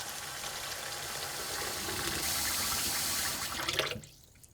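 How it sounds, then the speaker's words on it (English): Steady rushing of water poured onto washed rice in a container for about four seconds, then stopping abruptly, leaving a faint quiet tail. "Add water."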